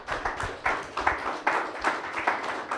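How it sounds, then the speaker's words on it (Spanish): A church congregation claps in a steady, fairly even rhythm, a dense patter of many hands at moderate loudness with faint voices mixed underneath. "Aplauso para el Señor."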